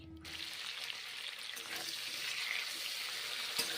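Sliced pointed gourd (potol) fries in mustard oil with a soft, even sizzle that holds steady at low level and ends with one faint clink.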